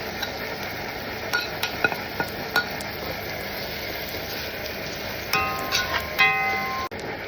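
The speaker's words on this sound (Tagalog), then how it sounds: "Kapag brown na yung ating garlic, ilalagay na natin ang ating sibuyas." Garlic and onion frying in oil in a pan for a simple shrimp dish, a steady close sizzle with a few scattered clinks of a utensil stirring against the pan, no voices.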